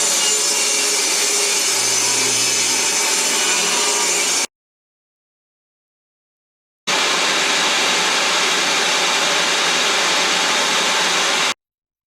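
Power saw cutting strips of 1/2-inch plywood in two loud, steady bursts separated by a few seconds of silence, with no voices.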